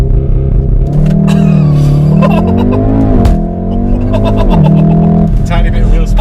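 A modified VW Golf R 7.5 launches hard under launch control, its engine note climbing steadily through gear changes, loud and close from inside the cabin, with people talking over it.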